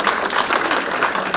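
Audience applause at a forum talk, a steady dense wash of clapping filling the whole short stretch at moderate, even loudness with no voices.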